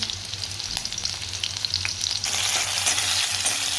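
Oil heats and sizzles in a kadhai, a steady close frying hiss that suddenly grows louder and brighter partway through as something is dropped into the hot oil.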